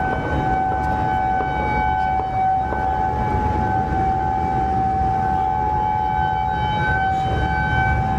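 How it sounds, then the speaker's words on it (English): Emergency sirens wail continuously at a distance after an alert during a shooting at Emory University, Atlanta, their steady tones sustained over a low rumble of background noise. "What you're hearing there is sirens going off just after that alert went out"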